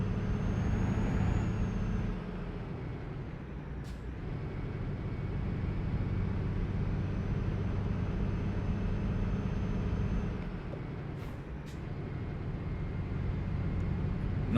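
A heavy truck engine in the video game Euro Truck Simulator 2 drones steadily at low pitch, loud and continuous, with a brief hiss of air brakes near the middle and again toward the end.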